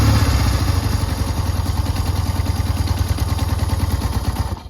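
Blue 1965 Honda CB160 motorcycle engine cranking on the electric starter with partial choke on a cold start, a loud close rhythmic chugging and clatter running steadily throughout, no speech.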